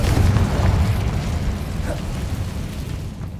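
A Confringo explosive spell in Hogwarts Legacy lands as a loud booming burst with a heavy low-end rumble that slowly decays over a few seconds, close and alone.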